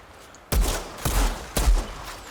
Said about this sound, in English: when I go over to this rifle, much slower rate of fire